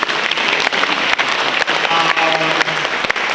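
Loud, dense applause from a congregation at a deacon ordination in St. Michael's Cathedral, Khunti, steady clapping filling the whole stretch with a faint voice underneath.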